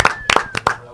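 A few people clap their hands in several short, sharp bursts of close claps spaced irregularly, with a faint tone running underneath.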